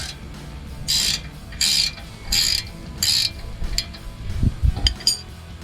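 A box end wrench works on a Jeep Wrangler JK tie rod and drag link, producing four evenly spaced ratcheting clicks followed by a few metallic clinks and knocks, close and clear with no speech.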